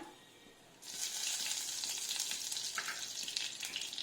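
Dried red chili and nigella seeds drop into hot mustard oil and burst into a steady, close sizzle that carries on after a quiet start.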